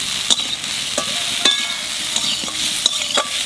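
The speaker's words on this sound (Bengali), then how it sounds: "সবজিগুলো ভালো করে ভেজে নিছি" Vegetables frying and being stirred in a pan, a steady sizzle broken by repeated scraping strokes of a spoon against the metal, close and alone with no talk.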